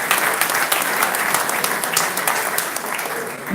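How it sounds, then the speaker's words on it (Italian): Steady applause from an audience honouring maestro Pevare at a football history event, dense continuous clapping filling the whole moment, fairly loud and close. "Un applauso per il maestro Pevare"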